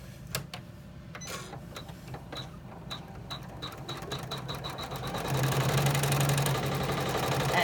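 A sewing machine stitches around the edge of an embroidered zipper pouch. It starts with a few slow separate stitches that speed into a steady rapid whirring, and it grows louder and denser after about five seconds. The sound is close and has no talking.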